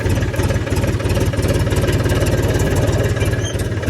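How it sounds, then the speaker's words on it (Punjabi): A tractor engine runs loud and close with a fast, even chugging pulse, steady throughout with no voices. "ਟਰੈਕਟਰ ਕਰ ਲਿਆ ਸਟਾਰਟ"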